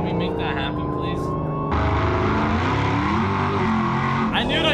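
Car engine in the driving game BeamNG.Drive, a loud close revving drone whose pitch climbs and shifts as the car accelerates, with a sudden surge of roaring noise midway and a person talking over it.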